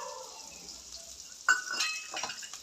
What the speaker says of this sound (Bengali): মা এখন পেঁয়াজ ভাজছে।